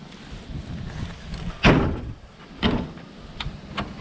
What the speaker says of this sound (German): Die Tür holen wir euch zu, dann zieht es nicht so durch.